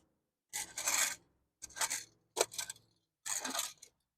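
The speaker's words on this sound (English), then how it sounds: "We're gonna scrape out all this loose stuff." Loose compost-like bedding being scraped out of a backyard chicken coop, four separate close rasping scrapes with short quiet gaps between them.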